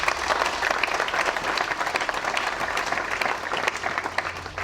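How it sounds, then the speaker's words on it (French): A pilgrimage congregation applauds its priests with dense, steady clapping throughout. "Applaudissez pour vos prêtres."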